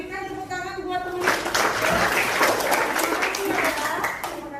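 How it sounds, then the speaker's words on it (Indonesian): Classroom applause for a student who answered a question in a maths lesson: a steady wash of clapping from students, with a teacher's voice talking over the start. "Berikan tepuk tangan buat teman."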